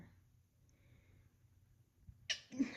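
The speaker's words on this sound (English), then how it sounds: "I rarely ever sneeze in readings." A single sharp sneeze bursts out near the end after quiet breathing, close and sudden.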